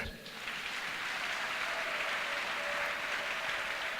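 A church congregation applauds together in a sustained, steady burst of clapping that fills the room evenly from start to finish.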